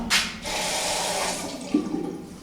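Water runs from a tap in a public restroom in a warm rest zone in central Zhytomyr, a steady rushing stream heard up close and alone, beginning with a brief sharper splash.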